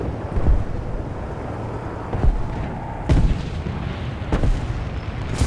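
Heavy cannon shots boom at irregular intervals in a War Thunder tank battle around a warehouse, four or five sharp blasts over steady wind-like rumble.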